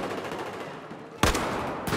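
An AK-12 rifle in Battlefield 4 is fired in a first-person match, with sharp loud bursts standing out over busy background game noise.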